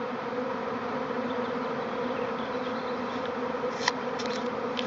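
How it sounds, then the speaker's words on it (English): A swarm of bees hums steadily around backyard beehives, a dense continuous buzz close by with individual insects passing near, and no talk over it. "We got 3 hives here. These 2 have bees in them already."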